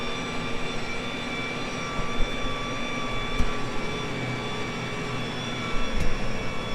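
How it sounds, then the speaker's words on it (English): A tractor with a welded bucket drives uphill at about 28 km/h, its engine a steady droning hum with a constant tonal whine and occasional low bumps and clunks; no talking. "So this is all it is to go up the hills with the tractor."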